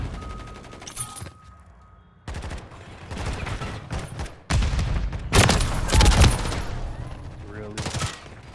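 Gunfire in a Call of Duty match, with loud bursts of shots and booms in chaotic clusters, separated by brief lulls, with speech mixed in at moments.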